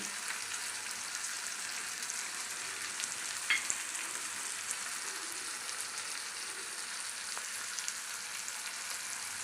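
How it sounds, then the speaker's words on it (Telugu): Sesame seeds sizzle in hot oil in a pan for a Telangana-style pachi pulusu, making a steady, close crackling hiss with a few sharper pops and no talking. "ఇప్పుడు నువ్వులు వేసుకుందామండి"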